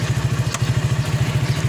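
A Honda Astrea 97 cc motorcycle engine, about 25 years old and overdue for an oil change and tune-up, idles close by with a steady, rapid, even putter and one brief sharp click partway through.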